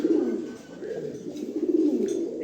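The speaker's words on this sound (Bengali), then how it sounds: "এই যে দেখেন কবুতর জোড়া" A pair of caged pigeons coo close up in soft, rolling, throaty phrases that repeat continuously, with no talk over them.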